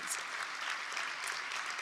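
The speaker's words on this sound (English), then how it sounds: "A big round of applause for some amazing heroes." Applause at an anniversary awards gala for honorees: a faint, distant, steady crowd clapping heard briefly and alone.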